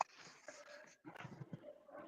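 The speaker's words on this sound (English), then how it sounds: "neighbor's dog was in my backyard." A neighbor's dog whimpers in a backyard, a faint, thin whine with a brief break midway, followed by softer yips and snuffling close by.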